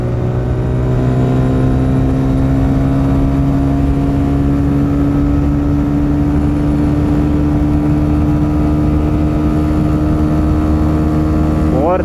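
A TVS Raider 125 motorcycle, a 2024 BS7 model, hums steadily in fourth gear at speed, its engine drone rising gradually in pitch as it accelerates, loud and close with wind rush.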